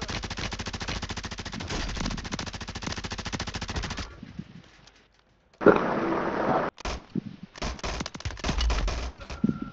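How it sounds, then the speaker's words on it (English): Dense automatic gunfire in the video game Warzone 3 Plunder mode, with a long rattling burst, a brief lull, then more sustained bursts and scattered shots, loud and close. "Taking effective fire!"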